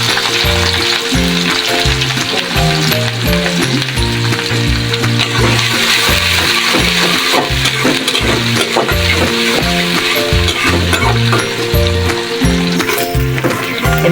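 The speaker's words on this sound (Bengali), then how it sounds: "মেথি, শুকনো মরিচ, পেঁয়াজ ভাজা ভাজা হয়ে গেছে।" Fenugreek seeds, dried chili and onion fry in hot oil for a sweet pumpkin stir-fry, a steady sizzle running under loud rhythmic background music for the whole stretch.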